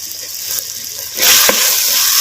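Chopped tomato and tuber pieces sizzle in hot oil, a soft steady hiss that grows louder partway through as the frying picks up, close by with no talking.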